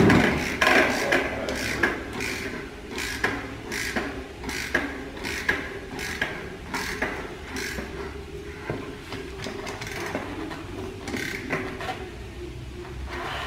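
An SRAM XD driver freehub being turned by hand gives off a steady run of close, dry mechanical clicks and ratcheting ticks as its teeth engage, fairly loud and repeating throughout with no one talking.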